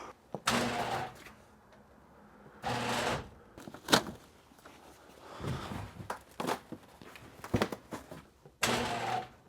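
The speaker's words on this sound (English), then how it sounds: "Oh, gotta open the garage door." A frozen garage door being forced open by hand, heard as several loud bursts of rattling and scraping with quieter shuffling and footsteps between the attempts.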